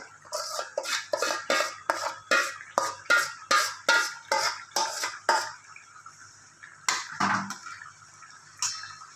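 Crushed vegetables for pav bhaji being worked in a pan over a high flame: a steady series of rhythmic metallic scraping and clanking strokes, close and clear, ending with a few irregular clatters.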